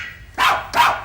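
A sampled Chihuahua bark replayed through a Simmons electronic drum kit from the 1980s, sounding as two short, sharp barks about a third of a second apart, fairly loud and alone.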